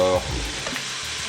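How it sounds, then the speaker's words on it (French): Wheat flour is stirred into a blanquette in a pan, giving a soft steady sizzle with a brief scrape of the spoon, close by and without talk. "Faut saupoudrer 2 cuillères de farine et bien remuer"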